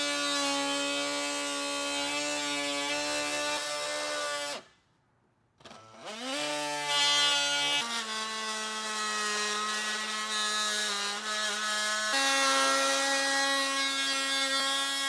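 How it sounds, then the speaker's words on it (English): An oscillating multi-tool cuts through a Toyota Tacoma front bumper with a loud, buzzing high-pitched drone that briefly stops and restarts, its pitch shifting as the blade bites into the material, close up and without talk. "this is where this type of tool, this oscillating tool, really shines"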